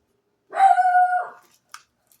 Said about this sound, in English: You all can hear Lulu barking.